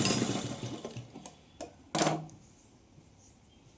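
Sewing machine stitching the waistband seam of a plain blouse, a burst of rapid whirring stitches up front, then short isolated clicks and a second brief run, fairly close.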